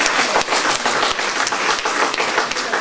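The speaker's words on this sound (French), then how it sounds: "On applaudit, hein." Audience applause at an evening ceremony, dense continuous clapping from a crowd, close and steady for a few seconds.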